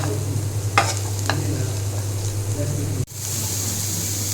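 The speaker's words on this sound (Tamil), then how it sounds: "இப்போ பார்த்தீங்கன்னா நம்மளோட வெஜ்ஜும் கொஞ்சம் ஃப்ரை ஆகிடுச்சுங்க" Shrimp, broccoli and paneer stir-frying in sesame oil with butter and garlic, a steady low sizzle with a couple of brief scraping stirs and a sharp clack near the end.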